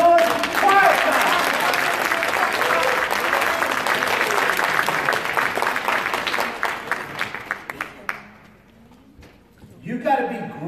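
A congregation applauds at a live church service, loud sustained clapping and cheering that thins out into a few last claps and fades to near silence before a preacher starts talking again.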